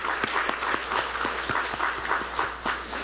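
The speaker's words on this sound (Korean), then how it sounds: "우리를 회복시키실 하나님께 영광의 박수" Church congregation applauding together during a worship service, a steady wash of many hands clapping at moderate distance for the whole stretch, with no talk over it.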